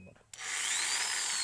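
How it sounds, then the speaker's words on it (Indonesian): An electric drill kicks on abruptly after a quiet moment and then runs at a steady, loud, high-pitched whine. The drill is used while assembling an inverter. "sekarang kita nyalain bor."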